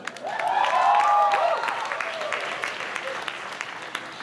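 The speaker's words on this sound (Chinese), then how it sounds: "大家再给姚晨一个掌声" An audience at a live song-hall show in Taichung breaks into applause, a moderate wash of clapping that swells early and then thins out, with a voice and calls heard over it.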